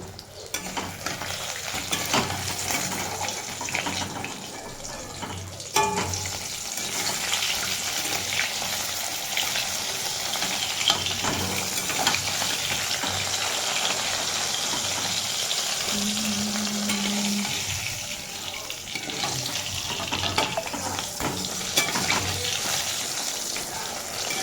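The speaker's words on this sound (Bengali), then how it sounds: "ভাজা হয়ে গেছে, তো মাছগুলো আমরা এখন তুলে নেব।" Pieces of katla fish sizzle steadily in hot oil, a continuous close frying hiss with occasional stirring clinks and scrapes throughout.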